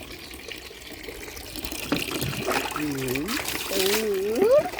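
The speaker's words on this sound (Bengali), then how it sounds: "চলো পায়ে জল দিয়ে দিই" Water poured over a person's feet, a soft trickling splash heard close by beneath voices, with tonal speech sounds rising and falling over it.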